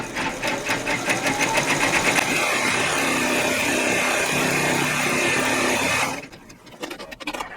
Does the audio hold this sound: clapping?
no